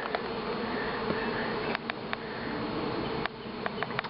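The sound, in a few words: honeybees swarming around blocked hive entrance during trapout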